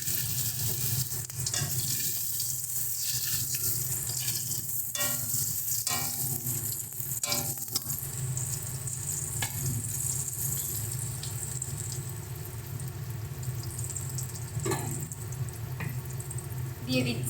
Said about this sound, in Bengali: এবার এই তেলেই আমরা জিরে ফোড়ন দিয়ে দিচ্ছি। দিয়ে দেবো আগে থেকে কেটে রাখা আলুগুলো।